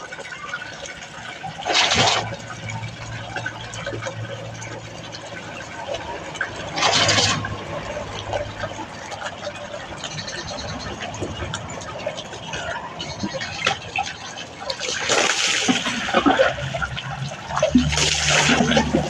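Water is poured in splashing bursts while someone bathes, a few loud dumps spaced several seconds apart with quieter trickling and dripping in between, close to the listener.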